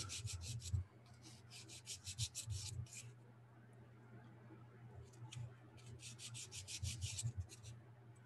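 A sanding stick rubs against a small handmade brass dress hook in bursts of dry, gritty scraping strokes, close and fairly quiet, pausing once for a few seconds before resuming.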